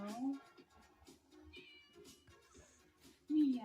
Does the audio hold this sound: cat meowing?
yes